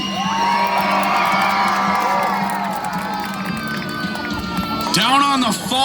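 A county fair monster truck show crowd screaming and cheering in the grandstand, sustained loud whoops and children's shrieks, with a louder surge of yelling near the end.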